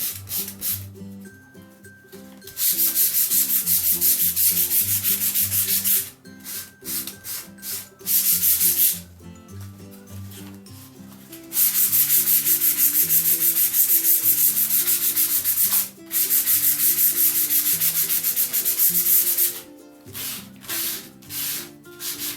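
Sandpaper rubbed back and forth over an MDF board in long steady passes, loud and close, stopping briefly several times before starting again.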